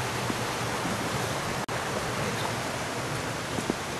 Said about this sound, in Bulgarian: Ето е реката, по която съм се запътил аз.